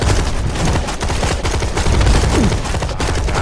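Gunfire in the video game Dark comes in dense, rapid bursts of shots that fill the whole stretch loudly, with no talk over it.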